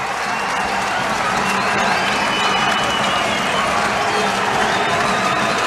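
Ice hockey crowd at the Vindico Arena during a Cardiff Devils game, a loud, dense wall of cheering and clapping that holds steady throughout, with a commentator talking over it.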